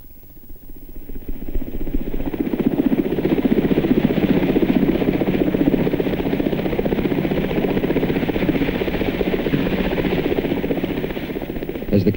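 A military helicopter arriving with wounded soldiers during the 1973 Yom Kippur War, its rotor chop and turbine whine swelling in then holding loud and steady, throbbing rhythmically for over ten seconds.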